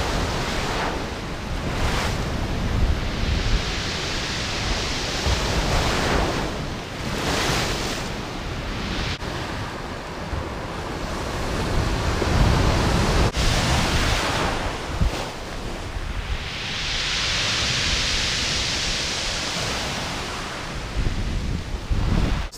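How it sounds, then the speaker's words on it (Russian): Sea waves wash over a rocky shore of large boulders and pebbles near Alushta in Crimea, surging and retreating in loud repeated rushes, mixed with wind buffeting the microphone. "Камни, волны, нас накрыло волной."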